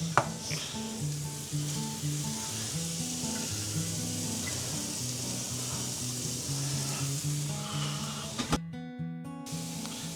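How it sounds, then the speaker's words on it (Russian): Carrots and onion frying in a pan for borscht, a steady close sizzle with soft crackling, heard alone without talk and ending in a brief clatter. "Пока у нас морковка там жарится с луком"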